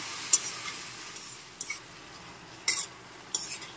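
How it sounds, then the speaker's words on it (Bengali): Green chillies and a splash of water stirred into a raw mango and catla fish curry in a pan, heard as a soft simmer with a few sharp spoon scrapes and clinks against the pot. "এখন দিয়ে দিচ্ছি কাঁচা লঙ্কা আর একটু জল মিশিয়ে দিচ্ছি। একটু নেড়ে চেড়ে নিচ্ছি আমি।"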